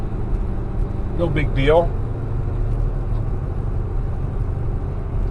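A car cruising on a city street heading north, steady low road and engine rumble throughout, with a person talking briefly over it.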